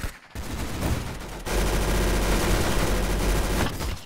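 A machine gun fires in the Roblox shooter Arsenal, loud sustained rapid bursts of rattling shots that intensify after a brief lead-in, with no talking.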